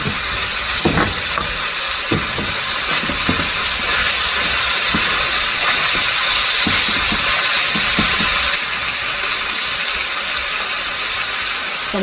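Vegetable oil hits a hot, dry pan for beef fried rice, giving a loud, steady hiss and sizzle that fills the whole stretch, with small crackles and taps scattered underneath.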